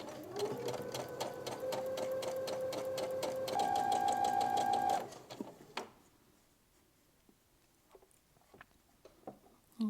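A sewing machine stitches a hem for McCall's 8035 with a back stitch, running in a fast, loud, even whir for about five seconds, rising briefly before it stops. Scattered light clicks and handling sounds follow in near silence.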